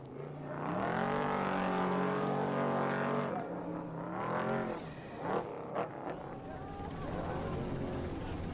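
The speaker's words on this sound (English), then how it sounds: "Sometimes you hear the engine." Engine of an off-road race vehicle at the Mint 400 desert race, a steady droning roar that rises and falls in pitch as it passes, loud and continuous.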